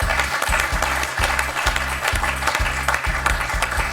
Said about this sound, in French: on l'applaudit Chantal